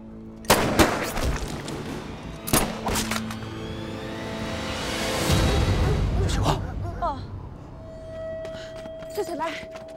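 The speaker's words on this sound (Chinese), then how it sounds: "我数一二三，咱们同时开枪。" Gunfire in a Chinese kung fu drama set in a snowy forest: a few sharp, loud, widely spaced shots cracking out over a busy soundtrack, with voices and other clatter between the blasts.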